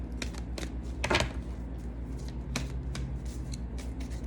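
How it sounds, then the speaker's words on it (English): Cards are shuffled close by in a few quick, crisp riffles and flicks, with brief pauses between bursts. "Why can't I shuffle these?"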